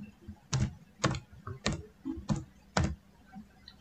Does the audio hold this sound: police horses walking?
no